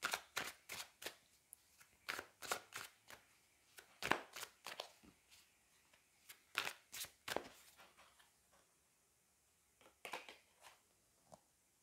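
Tarot cards pulled and handled from several decks at close range, a run of crisp slaps, flicks and riffles in uneven bursts that thin out toward the end, with no speech.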